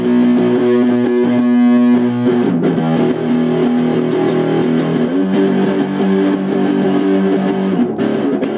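An LTD M-17 seven-string electric guitar played through heavy distortion, loud sustained chords and riffs ringing continuously with dense overdriven tone throughout.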